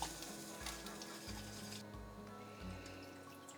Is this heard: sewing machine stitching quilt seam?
no